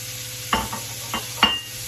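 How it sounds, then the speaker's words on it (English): Peppers and onions tossed in a pan of hot bacon fat, with a steady sizzle broken by three short scraping stirs, close and moderately loud with no talking. "Now in the same pan your bacon came out of, you're gonna add your peppers"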